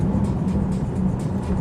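A 2023 Mercedes-AMG SL 43 Roadster on large 21-inch wheels rolls slowly over a speed hump, heard as steady road and engine rumble from inside the car with no distinct thump.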